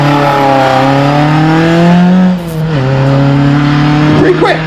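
Supercar doing a launch-control start at a concours event, loud engine roar climbing in pitch through gears with a brief dip at a shift, close and dominant, ending with a sharp tyre-like squeal.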